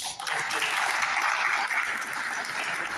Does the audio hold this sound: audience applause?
yes